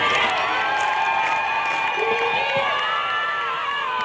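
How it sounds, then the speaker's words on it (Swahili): A large outdoor crowd at a CCM political rally in Rufiji applauds and cheers loudly and continuously, with shouts and whoops over sustained clapping. "Ainuke tena apate makofi yake."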